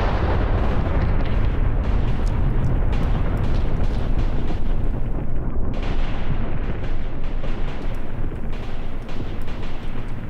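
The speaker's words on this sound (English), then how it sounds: "here comes the artillery and goodbye" Artillery shelling in the Graviteam Tactics war game, with a continuous loud roar of explosions and booming impacts that overlap densely for about ten seconds and never let up.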